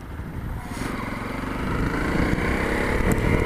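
A Honda CRF250L single-cylinder motorcycle idles and revs steadily nearby, its engine note thickening slightly partway through, with no talk.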